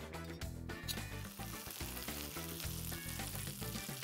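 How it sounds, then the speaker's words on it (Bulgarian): Butter sizzles in a frying pan already used for cooking spinach, while a traditional English breakfast is prepared: a faint, steady, continuous crackling hiss with no talking. "На същия тиган, къде сме готвили спанак, може спокойно да сложим още малко масло"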